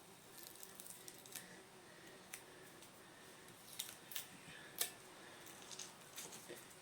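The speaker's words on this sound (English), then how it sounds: "it's always nerve-wracking when you start peeling the masking tape off." Masking tape peeled off the painted body of an Acorn No. 5 jack plane during restoration, heard as faint, close tearing and crackling strips in short irregular bursts with a few sharper snaps, over a quiet background.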